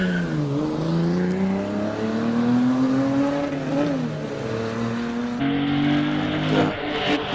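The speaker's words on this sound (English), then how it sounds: "Mark Hankins about to get off the line." A Porsche race car launches off the line at the Prescott hill climb, its engine revving hard and climbing through gears in loud rising sweeps, close by and alone.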